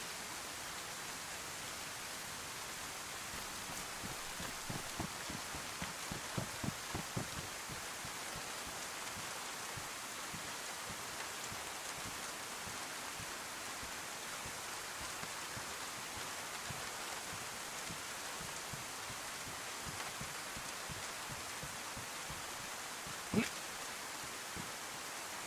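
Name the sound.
rain falling in the video game DayZ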